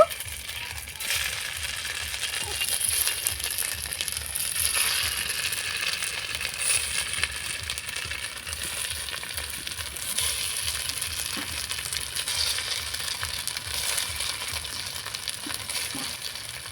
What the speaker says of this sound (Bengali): এবার আমি একে একে তেলের মধ্যে ছেড়ে দেব